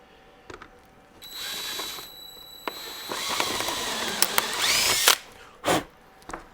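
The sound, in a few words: drill bit cleaning out a hole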